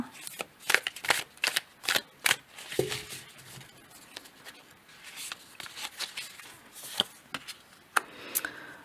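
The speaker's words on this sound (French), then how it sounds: "On va tirer notre carte." Tarot cards being shuffled and drawn by hand during a reading: a run of sharp, close papery snaps and riffles in irregular bursts, with faint quiet murmur between them.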